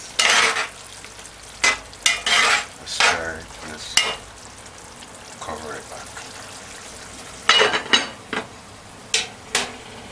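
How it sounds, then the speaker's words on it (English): Short bursts of stirring scrape and clatter in a pot of brown stewed ground kidney, several separate strokes with quiet pauses between and a soft sizzle beneath. "Now, after 15 minutes, add the salt and stir your pot."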